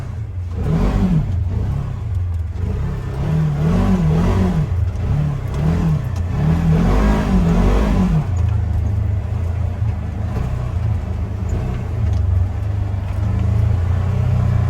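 A 2021 Polaris Ranger 1000XP UTV engine revs loudly while drifting, its pitch rising and falling in repeated wavering surges for about eight seconds before settling into a steadier drone.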